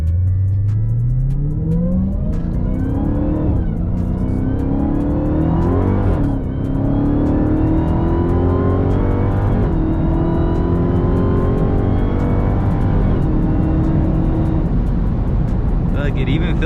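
A 2020 Dodge Charger Hellcat Widebody's engine revs while driving, climbing through the gears in repeated rising roars with brief dips at each shift, loud inside the cabin, with people talking over it.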